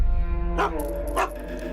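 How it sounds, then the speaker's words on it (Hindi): A dog barks twice in a room, loud and close, with a low background hum and no speech. "भौंक क्यों रहे हो?"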